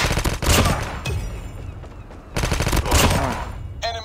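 Rapid automatic gunfire from an AK-117 rifle in a Call of Duty match, loud and close, coming in two dense bursts split by a brief lull, with faint in-game sounds underneath.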